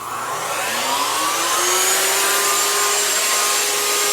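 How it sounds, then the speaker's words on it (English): A CNC router spindle spins up, its whine climbing steadily in pitch before it settles into a loud, continuous high hum under a constant airy rush. "I'm going to turn my spindle on."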